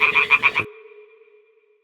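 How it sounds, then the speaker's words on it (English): Toads croaking in Kingdom Come Deliverance 2, a quick run of five rhythmic croaks close by, then a thin steady hum that lingers after the calls stop. "Ah, the toads are croaking here."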